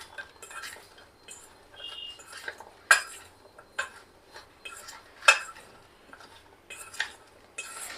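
A spoon stirs cubes of cut raw mango with masala in a bowl, giving irregular scraping swishes and a few sharp metallic clinks against the rim, close and fairly quiet, with no voices.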